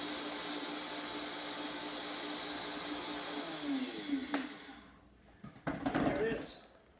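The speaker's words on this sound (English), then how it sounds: "Blend it out until we get the consistency that we want." A blender grinds dried onion into powder with a steady whirring drone that later slows and winds down. A few clunks and knocks follow as the machine stops.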